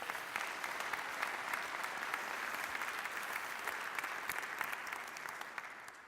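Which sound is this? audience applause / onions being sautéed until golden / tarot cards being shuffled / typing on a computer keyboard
audience applause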